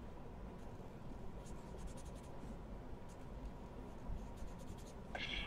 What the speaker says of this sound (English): Now I'm just going to draw little pads on the little scalloped edges here.